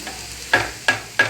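Chopped green papaya for a Kerala-style thoran being stirred in a hot pan, giving three quick scraping strokes over a faint sizzle, close up with no voices.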